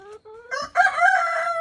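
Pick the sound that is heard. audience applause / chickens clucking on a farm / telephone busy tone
chickens clucking on a farm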